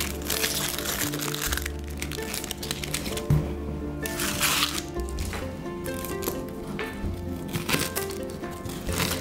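Close crinkling and crunching as an onion is handled, peeled and cut, with dry papery rustles, squishy knife crunches and occasional sharp cracks, continuous and fairly loud.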